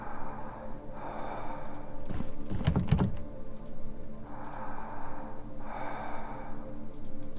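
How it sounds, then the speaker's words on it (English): Heavy, ragged breathing sounds from behind a wall in the horror adventure game The Last Door, a loud cluster of gasping breaths near the middle over a low, steady droning ambience. "I can hear breathing behind the wall."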